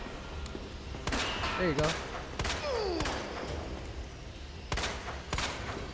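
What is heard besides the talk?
gunshots in Resident Evil 2 video game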